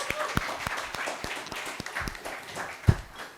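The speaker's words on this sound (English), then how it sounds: "Big round of applause for them." Conference audience at the APGAP 2024 podium presentations giving a team of doctors a round of applause, sparse distinct claps spaced irregularly over a soft background, fairly quiet and fading out.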